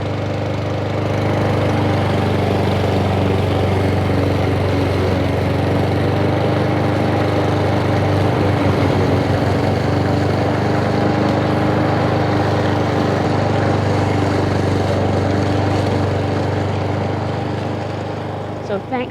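A Troy-Bilt TB130 lawn mower engine running steadily after repair of a suspected bent crankshaft, a loud, close, continuous drone that holds throughout.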